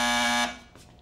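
A loud, raspy electric buzz from a cartoon buzzer holds steady for under half a second before stopping abruptly, followed by faint rustling.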